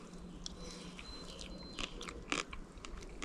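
Close, crunchy chewing of a camping pasta meal with mince, some pasta still hard, heard as a few sharp bites and crunches over a steady low outdoor background.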